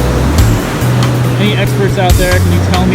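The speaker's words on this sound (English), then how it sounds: "These waves are huge, man. They're pounding me." Large ocean surf pounding the shore at Harbor Cove in Ventura, a steady heavy wash of breaking waves beneath someone talking close by, with a low motor-like hum in the background.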